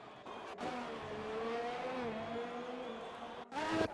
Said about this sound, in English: McLaren coming round, I think